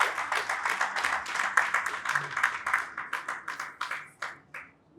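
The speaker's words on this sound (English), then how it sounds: "Can we give him a round of applause?" Audience at a Nigerian business awards event breaking into a round of applause, dense close clapping that gradually thins out into scattered individual claps and stops.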